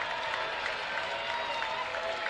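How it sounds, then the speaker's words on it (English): A crowd of over 3,000 at a minor-league baseball game in the ninth inning of a no-hitter claps and cheers in a steady, sustained roar of applause, mid-distance and fairly loud. "The crowd makes some noise here at Wintrust Field"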